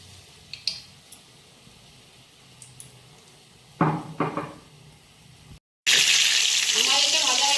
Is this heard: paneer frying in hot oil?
yes